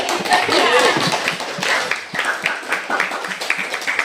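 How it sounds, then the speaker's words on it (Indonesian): An audience claps for the speakers at the close of an Indonesian university course event, a dense patter of hands that fades into scattered taps and thuds as the applause thins out. "Tepuk tangan dong."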